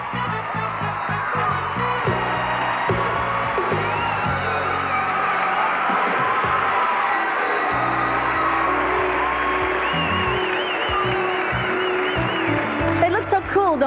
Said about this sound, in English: There are friends and family from every state in the union cheering on their favorites